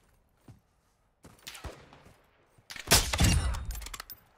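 Sniper gunfire in the video game Call of Duty DMZ: a single faint crack, then scattered shots and a louder, sharp burst of fire with rumbling tail near the end.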